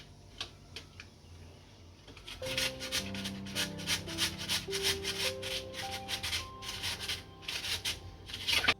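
Rapid, rhythmic scraping as potatoes are rubbed against a coarse grater, steady strokes up close with a faint tonal hum underneath.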